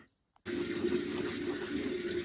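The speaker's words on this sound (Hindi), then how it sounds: "तो बस कर लेती हूँ जूते साफ" After a moment of near silence, water suddenly starts gushing and keeps splashing steadily as shoes are washed at a village home in Himachal, close and with no talk.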